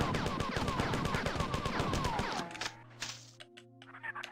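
A 4-trooper fires its rifle in the video game Marathon: a rapid, loud string of sharp shots with whizzing projectiles for about two seconds, then a few sparse impacts and electronic tones trailing off.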